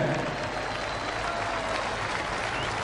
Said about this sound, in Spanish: El aplauso que se escuche.